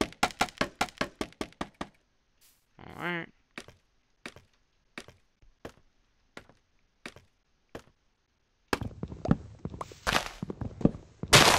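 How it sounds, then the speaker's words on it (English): Spruce trees being chopped in Minecraft: a rapid run of sharp wooden knocks, then slower spaced blows, a brief voice, and a final burst of busy chopping and clatter near the end. "I want to knock down most of these trees. Those spruce trees are highly"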